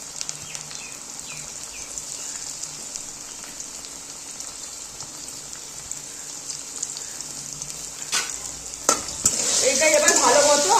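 Potatoes and cauliflower fry in oil with a little salt and turmeric for a fish curry, giving a steady crackling sizzle that swells louder toward the end, broken by occasional stirring scrapes.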